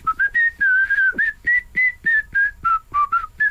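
Melodic human whistling in a song played on a radio show, a clear close sequence of short pitched notes in a lively rhythm, heard alone without talk.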